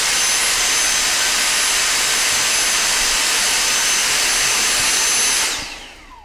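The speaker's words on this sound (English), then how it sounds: "make sure I don't destroy something while I'm currently vacuuming it" Vacuum cleaner cleaning equipment, a loud, steady high-pitched whine and rush that runs unbroken, then winds down as it is switched off near the end, with no talking.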